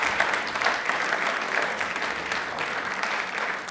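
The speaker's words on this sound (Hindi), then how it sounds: "जोरदार होनी चाहिए महिलाओं के लिए तालियां प्लीज" A live quiz show audience claps for women, a sustained, even wash of dense applause from a large crowd, close and steady throughout.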